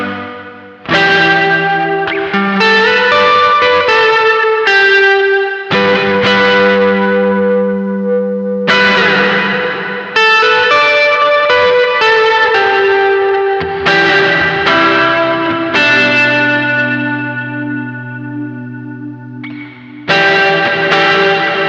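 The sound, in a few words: large reverb from Matthews Effects The Traveler pedal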